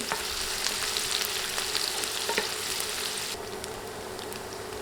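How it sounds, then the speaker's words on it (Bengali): Three medium sliced onions fry in oil with a steady, fairly soft sizzle, marked by occasional light stirring taps; no voices. "এখন নেড়ে নেড়ে পেঁয়াজ কিছুক্ষণ ভেজে নেব"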